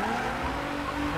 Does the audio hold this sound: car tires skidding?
yes